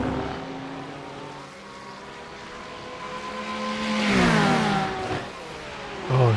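Several Porsche GT3 race car engines in a racing video game roar and rev with harmonic whines, one sweeping up and down through gear changes as it brakes and accelerates, fairly loud and steady without talk.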